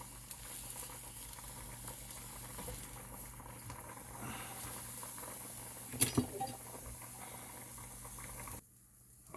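Lobster tail cooking in a pan gives a steady bubbling sizzle throughout, with a couple of sharper pops near the end before it cuts off abruptly.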